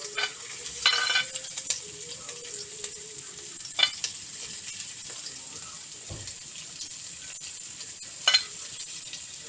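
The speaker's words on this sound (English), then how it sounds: "we're going to saute the vegetable, the herbs" Garlic, onion and herbs sautéing in a pot for Trinidad curry corn, with a soft continuous sizzle, occasional stirring clinks and scrapes, and a faint tone in the background.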